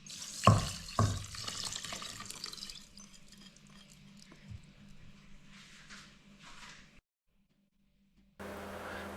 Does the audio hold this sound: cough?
no